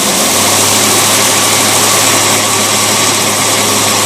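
A boat engine fitted with a Rochester two-barrel carburetor runs steadily at medium speed, around 1200 RPM, producing a loud, continuous, even drone with no speech over it.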